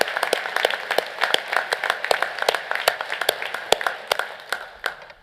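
A crowd applauds at a university graduation ceremony, steady clapping from many hands with sharp individual claps standing out, moderately loud and sustained throughout with no speech.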